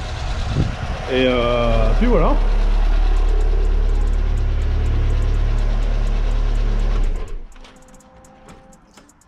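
Peugeot 205 1.4i with a dead alternator idles with a low, steady rumble inside a garage, then is switched off and the engine note drops away; someone speaks briefly over the idle.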